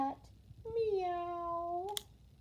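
A single drawn-out meow voiced by a person imitating a cat, rising then holding steady for about a second and a half, heard close and clear after a brief spoken bit.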